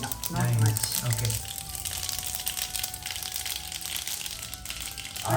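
Mustard seeds crackle and sizzle steadily in hot ghee with a little oil, a dense, bright frying hiss that runs throughout while a person talks over it.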